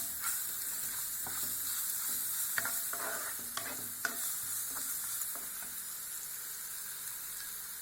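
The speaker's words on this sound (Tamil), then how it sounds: "நம்ம இப்போ கடலைப்பருப்பையும் போட்டுடலாங்க. வெங்காயத்தையும் நம்ம போட்டுடலாம்." Onions and chana dal fry in a hot pan for oats upma, a constant bright sizzle with a spoon scraping and stirring through it in short, uneven strokes.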